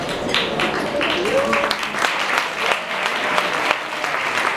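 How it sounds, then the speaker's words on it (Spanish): An audience at a live singer-songwriter concert in a Madrid venue applauds steadily after a song, the clapping dense and continuous throughout, with a voice briefly heard over it. "Es la primera vez que me aplauden por dar una talla de pie."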